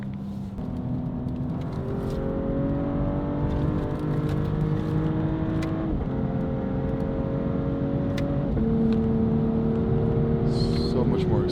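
BMW X7 40i family SUV with a Valvetronic exhaust revving and accelerating through rising gear pulls with shift breaks, a steady engine drone under someone talking.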